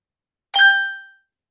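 A timer bell in a one-minute reading exercise rings once, a clear bright ding that rings out and fades over about half a second, alone in silence.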